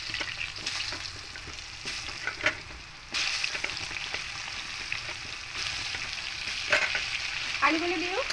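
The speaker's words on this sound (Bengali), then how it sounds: "আলুগুলো দিয়েও হালকা করে লাল লাল করে ভেজে নেব।" Potatoes fry in oil until lightly browned, giving a continuous close sizzle with intermittent stirring clatter and a few sharper pops and scrapes along the way.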